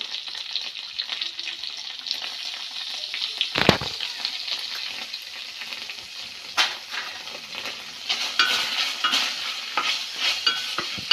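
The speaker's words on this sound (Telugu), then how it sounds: "మెల్లిగడ్డల పేస్ట్ వేస్తున్నాండి." Onion paste sizzles in hot tempering oil while a spatula stirs and scrapes the pan, with a continuous close crackle and one dull knock partway through.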